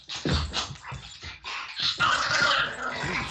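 An agitated dog barks, growls and whimpers in short frantic bursts, close and fairly loud, with no talking over it.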